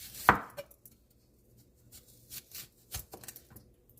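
Raw plantain being chopped with a knife on a board: one sharp, close cut followed by a run of lighter, uneven taps and knocks, with quiet gaps between them and no talk.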